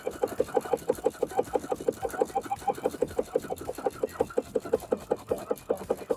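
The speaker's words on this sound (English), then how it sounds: "So I'm going to be stitching this down from the inside." A sewing machine stitches down a bra seam from the inside, its needle pulsing in a fast even rhythm at moderate volume throughout.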